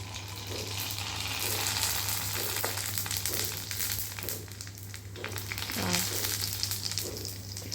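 Panipuri (fuchka) shells fry in hot oil, producing a continuous close crackling sizzle with bubbling pops and a few light knocks and scrapes.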